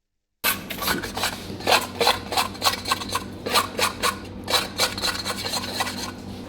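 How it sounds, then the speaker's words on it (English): A rubber or plastic scraper scrapes cement mortar from the wall and bottom of a mixing bowl, a series of rough, rasping strokes that are fairly close and repeat irregularly after a short silence at the start. "remove by means of a rubber or plastic scraper the mortar adhering to the wall and bottom part of the bowl"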